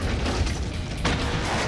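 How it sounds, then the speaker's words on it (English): A gas-filled apartment is blown apart in a huge explosion, producing a loud, sustained rumbling roar with a fresh burst of debris noise partway through. "One magnificent, made-to-order apartment explosion."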